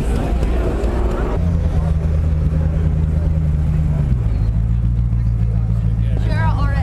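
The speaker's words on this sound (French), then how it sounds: "Koenigsegg Agera" A Koenigsegg Agera RS1 supercar rolling in at a supercar gathering: a deep, steady engine drone that drops in pitch as it slows, with someone talking excitedly over it throughout.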